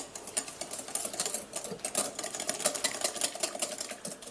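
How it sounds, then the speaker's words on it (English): Sugar and vanilla essence whisked in a bowl, giving a fast, continuous rhythmic clatter of whisk against the sides at close range. "just whisk this basically until it's combined"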